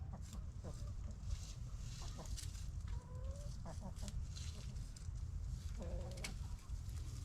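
Chickens cluck and call repeatedly in a coop yard where two flocks have just been brought together, short clucks and a few drawn-out calls rising over a steady low rumble of background noise.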